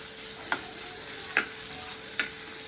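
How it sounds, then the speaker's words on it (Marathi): Vegetables sizzle steadily in a hot pan on a home stove, with three sharp scraping stirs spaced evenly over the constant frying hiss. "आता भाजी फ्राय करायला घेतली."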